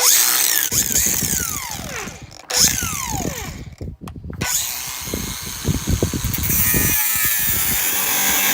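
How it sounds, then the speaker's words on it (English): A battery-operated angle grinder cuts into metal at a giant hole during car repair, with a loud whining motor, gritty grinding, brief pauses and dips where it slows, close by. "Lucky I got this thing, a battery operated angle grinder."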